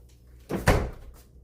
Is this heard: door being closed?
yes